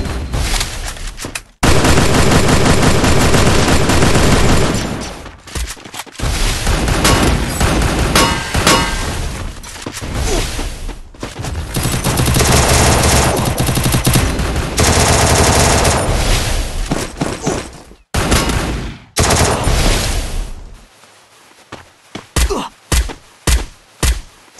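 Loud, nearly continuous automatic gunfire from a Free Fire battle royale match, sustained rapid bursts broken by brief gaps, ending in a string of separate single shots.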